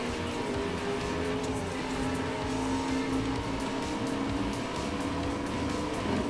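Engines drone steadily in a video game race against muscle cars, a sustained mid-pitched roar with tire noise and no pauses.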